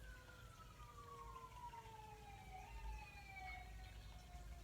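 A fire truck's wailing siren sweeps slowly downward in pitch, distant and faint over a steady background rumble of traffic.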